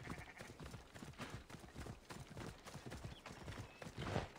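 Horse hooves clop in a steady, rhythmic trot throughout, fairly close, with Assassin's Creed Odyssey game ambience in the background.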